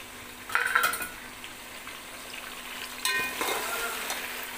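Ginger and chilli frying in a pan, a faint sizzle with two brief bursts of louder crackling and a few metallic stirring clinks against a quiet background.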